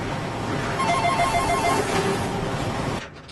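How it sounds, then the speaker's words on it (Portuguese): Dense jumble of household noises happening at once, with a ringing telephone over a chair scraping and a door slamming, loud and continuous before cutting off abruptly near the end. "A cadeira que arrasta. O telefone que toca. E a porta batendo. E se tudo acontecesse ao mesmo tempo?"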